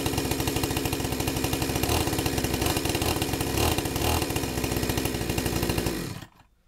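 A repaired Daewoo DACS5820XT gasoline chainsaw runs loud and close with a steady buzzing two-stroke drone, then cuts out abruptly near the end.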